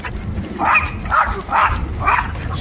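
An Akita on a walk barks four times in a regular rhythm, sharp and fairly close, over a low rumbling outdoor background.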